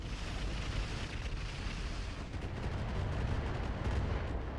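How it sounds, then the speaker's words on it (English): A Trebuchet mech fires a dense barrage of weapons in RogueTech, giving a continuous roar of booming, crackling impacts with no pauses and no voices. "Trebuchet is firing on the Jenner."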